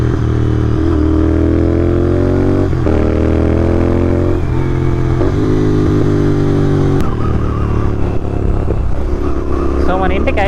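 Royal Enfield GT650 twin-cylinder motorcycle riding on a highway, loud close engine drone rising through gears with distinct shift drops, wind rush and a rider speaking over it.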